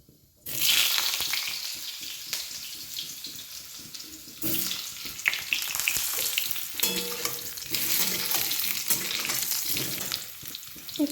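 Potatoes drop into hot oil in a wok and burst into a loud, close frying sizzle that swells and crackles on, with stirring scrapes and bubbling surges throughout.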